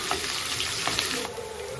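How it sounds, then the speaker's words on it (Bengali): Chopped onions fry in hot ghee and oil in a home kitchen, giving a close, steady crackling sizzle that continues briefly on its own. "এরপরে কচনো পেঁয়াজগুলো দিয়ে দিলাম গরম তেলের মধ্যে। পেঁয়াজটা মোটামুটি লাল করে ভেজে নিতে হবে।"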